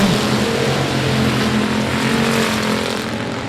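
Race cars at I-37 Speedway roar past in a dense, loud pack, engines droning steadily and close with a slight fade at the end, no voices over the noise.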